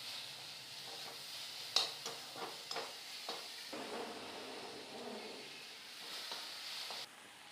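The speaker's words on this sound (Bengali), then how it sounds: "নুন দিয়ে ভালো করে একটু মিশিয়ে নেব।" Spices and salt are stirred in a hot pan for a fish curry, with a soft, steady sizzle under intermittent scrapes and light taps of the spoon against the metal.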